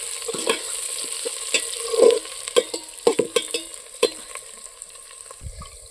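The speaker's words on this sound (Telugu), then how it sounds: "పుదీనా కూడా వేగుతూ ఉంది పుదీనా వేగుతూ ఉంది" Mint leaves fry in hot oil over a wood-fired stove outdoors with a soft sizzle, while a spoon scrapes and taps the pan in irregular strokes.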